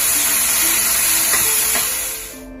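Shrimp, mushroom and broccoli stir-fry hard in a hot pan with soy sauce, salt and wine, giving a loud, continuous sizzling hiss with a few light clinks and scrapes of stirring.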